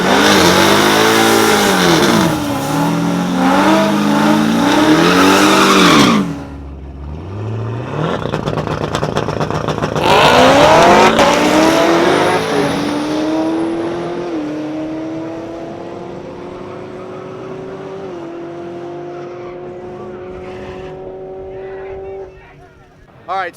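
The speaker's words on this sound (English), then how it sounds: "I'm going to run the twin turbo car" A twin-turbo drag race car makes a loud pass, its engine revving hard in rising sweeps, dropping briefly, then screaming again before fading into the distance, with voices talking over parts of it.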